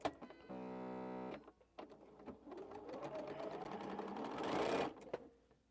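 A home sewing machine stitching quilt pieces, first a steady mechanical hum, then a short pause and a rising, faster whirring run that stops abruptly, close and clear.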